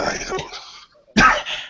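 A person gives a couple of rough, close coughs with a short pause between them, sounding like throat-clearing hacks.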